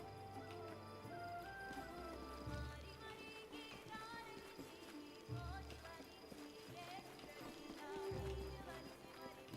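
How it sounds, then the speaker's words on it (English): Horse hooves clip-clop in a steady rhythm beneath continuous music and ambient game-like sound, with low thumping accents recurring every few seconds throughout. "Horse."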